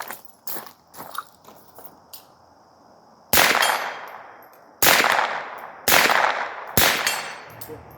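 After a few faint clicks and handling noises, four loud rifle shots hit a target at 50 yards, each a sharp crack with a ringing decay, spaced one to one and a half seconds apart.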